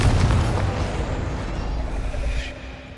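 Confringo fire spell blast in the Hogwarts Legacy video game, a loud rumbling explosion with a heavy boom at the start that decays into a sustained crackling roar.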